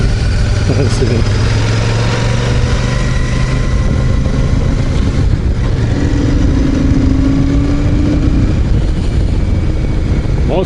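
A Royal Enfield 650 Super Meteor, Celestial Red version, runs with a loud, continuous engine drone and rumble, its pitch rising briefly as the throttle opens, with wind noise and a voice talking over it.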